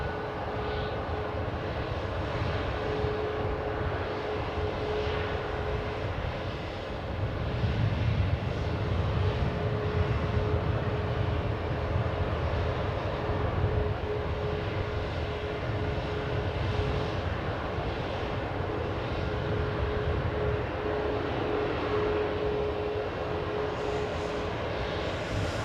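Airliner engines idle and rumble at Manchester Airport while a 15-year-old aircraft bound for Amsterdam waits for takeoff clearance, a steady distant drone with a faint constant whine and a slight swell midway.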